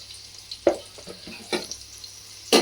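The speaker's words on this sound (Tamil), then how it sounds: "பொன்னிறமாக இதை கொஞ்சம் நம்ம வதக்கிக்கலாம்." Onions sautéing in a pan for Hyderabadi mutton biryani: a faint, low sizzle broken by three or four sharp spoon scrapes against the pan, nearby, with no talking.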